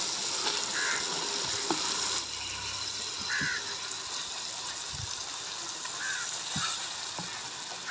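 Beef keema frying in masala in a village-style kitchen, a steady close sizzle with occasional stirring scrapes and clinks, with faint bird calls outside.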